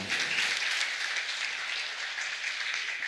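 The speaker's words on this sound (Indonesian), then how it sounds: "Kasih aplaus untuk beliau" An audience gives a steady round of applause for a guest at a school talk show at a madrasah in Lumajang. The clapping stays moderately loud and sustained, with no talk over it.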